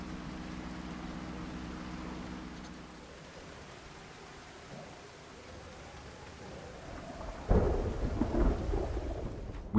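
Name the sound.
thunderstorm with rain in Project Zomboid video game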